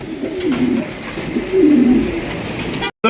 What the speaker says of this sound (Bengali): এটা হচ্ছে রেড কালারের ডাউকা কবুতর